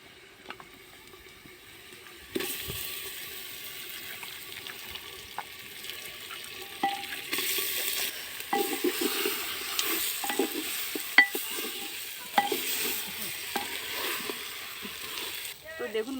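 Marinated chicken drops into fried onions in an earthen clay pot. After a quiet start, a sudden hiss of frying rises, broken by repeated scraping and stirring knocks from the spoon against the pot.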